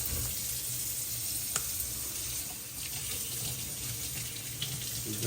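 Tap water runs in a steady, close rush while salmon fillets are rinsed under it, continuous and even, with a few faint clinks and splashes.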